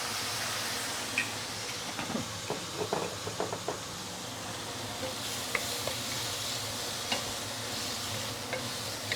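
Soya sauce prawns sizzle and fry steadily in a wok with a splash of Shaoxing wine, a continuous hiss broken by scattered knocks and scrapes of stirring, close and alone without talk.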